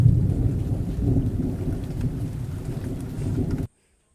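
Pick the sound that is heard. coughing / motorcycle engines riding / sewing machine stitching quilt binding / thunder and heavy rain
thunder and heavy rain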